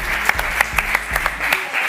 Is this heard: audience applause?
yes